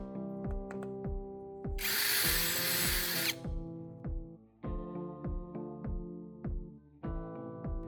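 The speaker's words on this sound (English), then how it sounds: "Using one end, I drill the hole slightly larger to make it easier to fit and secure the spark plug's threads into the wooden handle" A power drill bores a hole through a wooden handle, widened to take a spark plug's threads. A dense burst of drilling runs for about a second and a half, set among a steady series of sharp ratcheting clicks.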